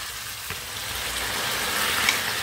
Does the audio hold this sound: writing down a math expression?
no